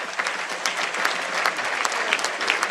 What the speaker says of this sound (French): On l'applaudit, Damien Provost.